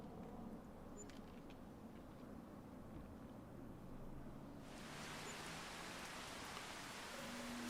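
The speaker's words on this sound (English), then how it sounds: "Sounds like rain, not hail" Rain falls in the farming video game Farming Simulator 25 as a soft, steady hiss of drops. Partway through it suddenly turns brighter and fuller, and no one speaks.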